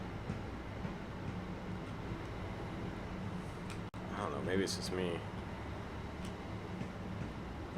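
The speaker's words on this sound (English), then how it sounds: "I guess it just flies through the train wash at 13 miles per hour" A train in Train Sim World 2020 on the East Coastway line rolls through a train wash at about 13 mph, giving a steady, even rumble throughout, with someone talking over it partway through.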